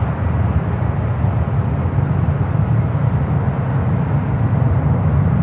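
An American Airlines jet arriving on runway 28 right at San Francisco International, a steady broad engine roar held at constant loudness throughout, with no talking.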